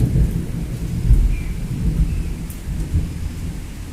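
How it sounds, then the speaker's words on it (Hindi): Deep thunder rolls and rumbles through heavy rain that pours steadily in Dehradun, loud and close, with nobody speaking. "देखो क्लाउड्स की कितनी तेज आवाज आ रही है, बादल गरज रहे हैं बहुत जोर जोर से।"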